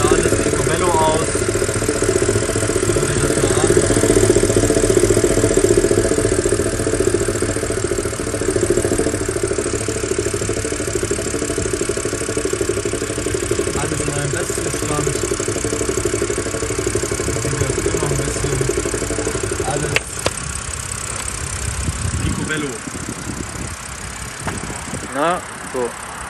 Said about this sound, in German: So läuft der Motor, nur leichter Kaltstart, aber läuft absolut solide.